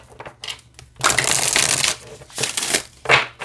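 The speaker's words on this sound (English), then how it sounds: "let's shuffle here" A Healing Spirits Oracle card deck is shuffled in several quick bursts of riffling and rustling, close up, with short pauses between them.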